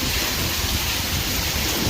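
A violent nighttime storm lashes down, heavy rain roaring loudly and continuously with low rumbling that suggests thunder and wind, dense and unbroken throughout.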